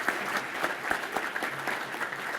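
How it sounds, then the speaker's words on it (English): An audience at a regional chamber economic forecast event claps for a manufacturing award recipient, steady moderate applause of many hands with slight irregular peaks and no voices. "please join me in a very warm and respectful round of applause"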